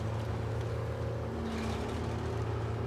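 A truck engine runs in the off-road driving game SnowRunner, a steady low throbbing drone with a humming tonal whine layered on top, close and even throughout.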